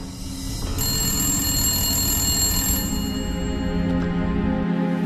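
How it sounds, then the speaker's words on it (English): A telephone rings with a continuous electronic bell tone, steady and fairly loud, with no talking over it. "The phone rings and I answered it"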